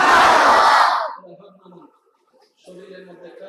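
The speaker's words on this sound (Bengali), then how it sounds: "উচ্চ আওয়াজে একবার বলেন মারহাবা" A crowd at an Islamic sermon shouts a single word together in a loud, unified burst lasting about a second. After it fades, a lone voice speaks quietly.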